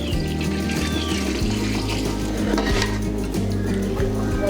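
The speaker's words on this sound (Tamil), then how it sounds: "தண்ணி ஊற்றிடலாம்." Water pours steadily into a pot of country chicken biryani, a continuous close splashing and running wash with metallic pot resonance and a low steady hum beneath.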